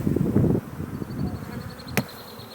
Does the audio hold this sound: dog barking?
no